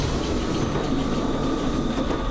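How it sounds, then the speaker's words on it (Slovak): Train running along the Harmanec railway line in Slovakia, a loud continuous rumbling roar with steady rolling wheel noise, heard close from on board and without voices. "často cestujeme vlakom po harmanickej trati"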